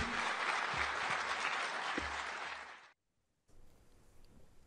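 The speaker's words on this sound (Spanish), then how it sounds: "los aplausos" Audience applause, loud and dense clapping for about three seconds before cutting to near silence, then a fainter murmur of room noise.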